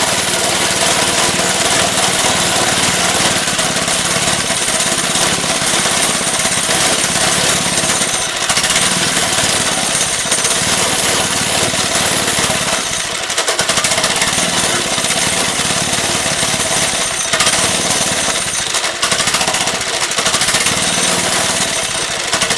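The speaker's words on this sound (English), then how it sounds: "Still not running quite right, but running better, so we'll keep working on it." A Lifan 2.5 hp small engine runs loud and close after its carburetor was cleaned and replaced. It holds a dense, steady mechanical roar with slight roughness throughout and no speech.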